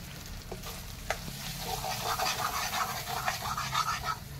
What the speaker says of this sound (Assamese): গতিকে ভাতৰ সৈতে ভাজিছোঁ।